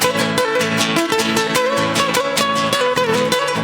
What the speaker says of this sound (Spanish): La guitarra abanquina suena así como está tocando mi hermano